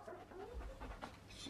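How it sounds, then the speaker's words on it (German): A dog sniffs and pants close by, quick, faint, breathy bursts in a steady rhythm over a low rumble. "halt mal den Hund fest"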